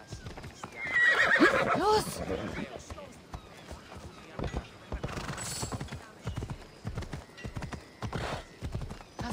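A horse in the video game Assassin's Creed Odyssey whinnies loudly at the start, then its hooves clip-clop at a running rhythm under someone speaking.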